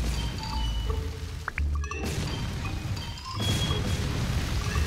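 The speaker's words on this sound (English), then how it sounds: "So explosions do nothing." An explosion blasts through a Roblox ragdoll physics game as a character is dropped into a minefield: a short high whistling rise, then a loud broad crash that gives way to rumbling noise, with a second burst of heavy blast noise near the end.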